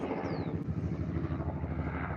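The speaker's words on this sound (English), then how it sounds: "No, helicopter." A helicopter passes overhead in Guatemala, making a steady, loud rotor drone with a rhythmic pulsing chop that fills the whole stretch without letup.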